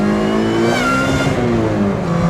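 A supercharged K24-swapped seventh-generation Honda Civic engine revs steadily upward toward redline, a loud, close, continuous rising engine note with no talking.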